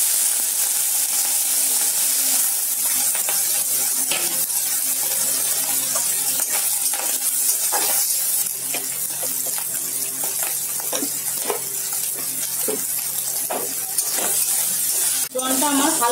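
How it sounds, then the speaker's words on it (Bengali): Prawns fry in a pan for spaghetti pasta, giving a continuous bright sizzle with scattered pops and light utensil clicks throughout. "প্রথমে আমি প্রনটা ভেজে নেব।"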